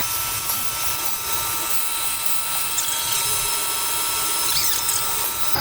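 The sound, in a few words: tool grinder wheel resharpening end flutes of a rough cut endmill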